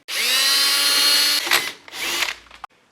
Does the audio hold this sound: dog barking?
no